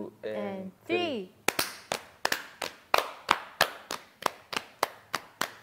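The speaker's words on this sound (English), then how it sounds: "So we clap and tap, and then we do it faster at the end." Hands clap and tap out a beat in a kids' activity session, a dozen or so sharp claps that start steady and speed up toward the end, after a brief sung voice at the start.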